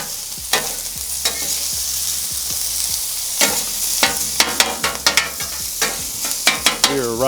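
Red onions sizzle steadily on a very hot stainless steel Napoleon griddle with oil, with repeated sharp spatula scrapes and clanks as they are stirred, loud and close, no talking.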